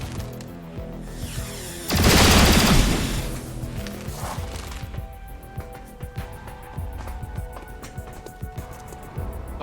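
A loud burst of sustained rapid gunfire erupts in XCOM: Chimera Squad, followed by scattered impacts, clatter and quieter game sounds.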